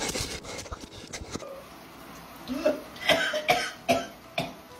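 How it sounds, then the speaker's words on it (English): A toddler coughs in a short series of sharp, bright coughs, each one close and fairly loud, following a stretch of quieter indistinct background noise. "He's doing the tablet toddler cough."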